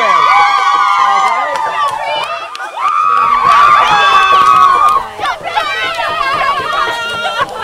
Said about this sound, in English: Let's go to the crowd here for a second. Let's get a little hyped up, huh?